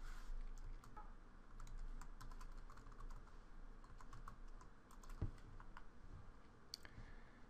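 Fingers type on a computer keyboard while entering LaTeX commands, producing a quiet, irregular run of soft key clicks over a low background hum.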